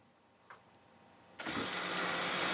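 A Yikong YK-4107 RC car's motor in low gear spins the wheels. Near quiet gives way to an abrupt, loud and steady whirring whine that holds to the end.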